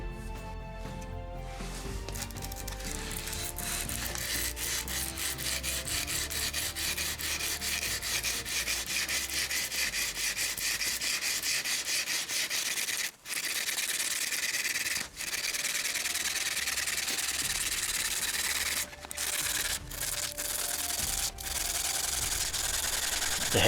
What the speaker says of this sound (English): The rest of the finishing will be done by hand with some sandpaper and some stones.